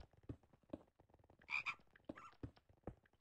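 Frog-like croaking used as the scorpion creature sound in modded Minecraft, a series of short rhythmic croaks with a louder, denser burst in the middle, heard clearly without talk.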